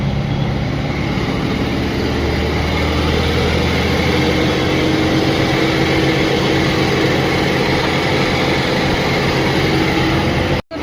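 A diesel car engine idles during DPF regeneration, with a steady, continuous close-up drone and faint rattle that holds unchanged throughout, with no voices.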